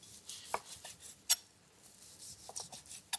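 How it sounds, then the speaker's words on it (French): A chef's knife cuts smoked bacon into small lardons on a board, giving a few sparse, sharp taps and scrapes spread out with quiet gaps between them. "on va tailler des petits lardons"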